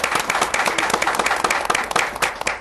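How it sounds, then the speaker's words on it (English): Brisk, dense applause from an audience at a business talk for Dr. Felton, a short burst of many hands clapping close by that tapers at the end. "Round of applause for Dr. Felton."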